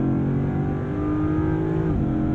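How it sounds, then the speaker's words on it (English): A 2022 Land Rover Defender 90 V8 with an 8-speed gearbox, shifted manually by paddle in sport mode, blips and revs on quick downshifts, its engine note loud, steady and close with a pitch change near the end. "The downshifts are quick."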